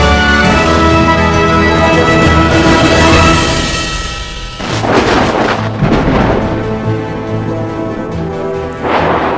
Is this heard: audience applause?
no